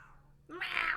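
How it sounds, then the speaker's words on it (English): A cat meows once in the video game Thirsty Suitors, a clear, rising then falling mew that comes after a brief quiet lead-in, heard close and alone. "are you just gonna stand there and meow at me?"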